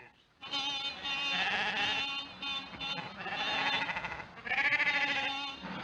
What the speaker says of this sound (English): Sheep all over the road, damn silly things.